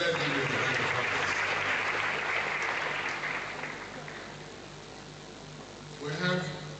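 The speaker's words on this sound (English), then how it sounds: "Please let's give him a round of applause." University of Benin lecture audience applauds the bursar with a steady burst of hand-clapping that fades over several seconds, followed by a brief voice near the end.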